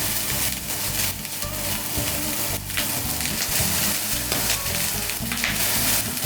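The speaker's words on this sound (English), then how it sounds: "let all the oil and the fat from the chorizo to get out from the meat, and let the meat fry in the same fat" Homemade chorizo fries in its own rendered fat and oil in a pan, giving a loud, steady, dense sizzle with crackling spatters throughout and no voices.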